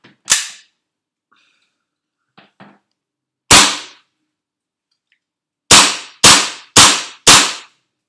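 Tokyo Marui Desert Warrior airsoft pistol dry-fired with no gas, giving sharp, loud snapping clacks: one early, a few faint handling clicks, another crack, then four rapid evenly spaced shots near the end.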